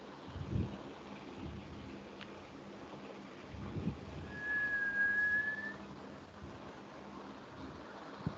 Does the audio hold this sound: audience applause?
no